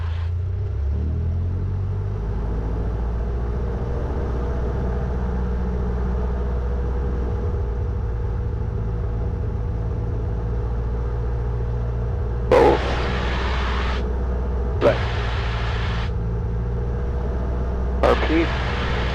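Engine of a light training aircraft held at 1700 rpm during run-up, a steady loud low drone throughout, with brief bursts of radio or intercom noise toward the end.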